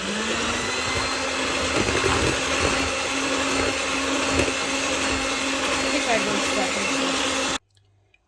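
An electric mixer whirs steadily through cake batter for a cocoa cake, a loud continuous motor drone that runs for about seven and a half seconds and then cuts off abruptly, leaving near silence.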